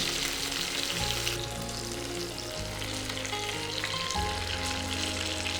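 Chicken pieces for honey chicken fry in a pan with a dense, steady sizzle, and pieces are turned side to side with a few soft clunks of utensils against the pan.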